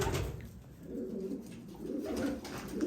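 A Karabaş pigeon coos softly and repeatedly in low, rolling murmurs against a light background hiss.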